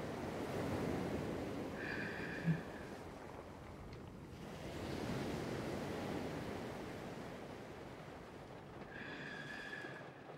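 Ocean waves on a shore, a soft continuous wash of surf that swells and fades, faint and distant, with brief high tonal chimes over it and no talk.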